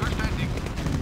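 Rapid gunfire from the Command & Conquer GDI campaign: a dense, continuous clatter of automatic weapons and battlefield noise, steady and fairly loud throughout, with no voice over it.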